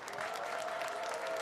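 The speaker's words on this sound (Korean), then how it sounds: "관중분들의 박수 소리도 크게 들려오네요." Steady, dense applause from the audience at an international archery team tournament in Gyeyang, Incheon, a continuous wash of many hands clapping at moderate distance without pauses.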